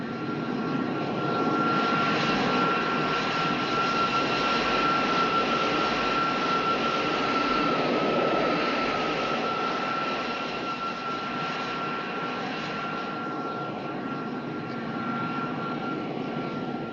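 A fixed-wing airplane taxis on a runway with a loud, continuous engine drone and a steady high tone, holding close and even throughout with a slight easing near the end.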